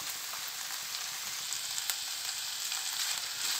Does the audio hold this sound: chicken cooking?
yes